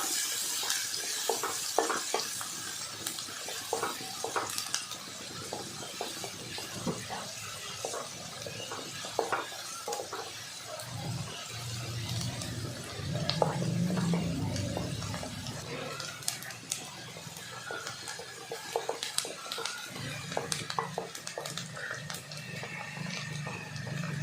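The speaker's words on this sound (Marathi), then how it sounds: "बारीक चिरलेला कांदा टाकायचा आहे छान कांदा परतून घ्यायचा आहे लालसर होईपर्यंत" Finely chopped onion with curry leaves sautéing in a pan for stuffed capsicum, a continuous soft sizzle with repeated spoon scrapes and stirring clatter, close and moderate, under occasional talking.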